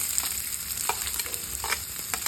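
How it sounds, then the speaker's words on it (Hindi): Finely chopped onion frying with cumin in hot oil, a dense continuous sizzle up close with light stirring scrapes now and then, and no voices. "जीरा जब थोड़ा तड़क जाए तो डाल देंगे 1 बारीक कटा हुआ प्याज"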